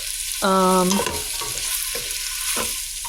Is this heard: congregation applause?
no